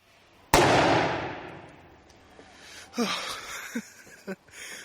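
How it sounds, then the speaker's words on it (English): A plastic bottle pressurised by liquid nitrogen bursts with a single sudden, loud bang that decays into a long hissing rush, followed by gasps and scattered voices from a nearby audience. "All that happened was the pressure built up and up and up until eventually the bottle gave way."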